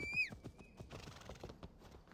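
A horse in Assassin's Creed Valhalla gives a short, high whinny at the start, followed by rapid hoof clip-clops that continue to the end, fairly quiet and with no talking.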